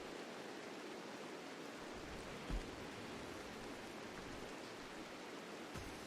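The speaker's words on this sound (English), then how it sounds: "Always loved the RimWorld rain sounds." Rain in the video game RimWorld makes a steady, soft, even wash of noise with one brief low thump in the middle, and no one speaks.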